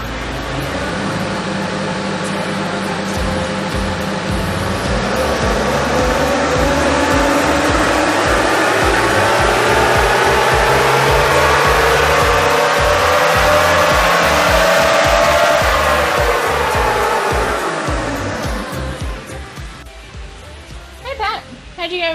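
Toyota 1HZ turbo diesel engine running on a dyno with a vacuum line hooked up, a loud, steady roar that rises in pitch as it revs up, holds high, then drops away near the end.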